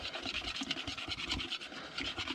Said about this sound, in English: I'm going to get the whisk in there and just whisk it up.